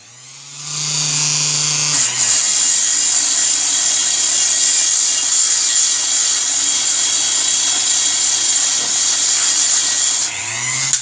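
A power sander fitted with a fresh sandpaper disc whirs loudly and steadily for about eight seconds near the work on a Bigdog motorcycle, spinning up at the start and winding down at the end, with no talking.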